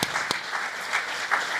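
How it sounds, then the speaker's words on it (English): Audience at an economic forecast forum applauding, a continuous wash of many hands clapping in a hall with a few louder individual claps, no talking over it. "please join me in giving them a round of applause."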